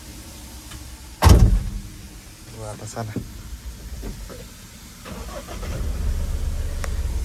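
A pickup truck's door slams shut with a sharp, loud thud, followed by a short rattling crank and the engine catching into a low, steady idle, with someone speaking briefly nearby.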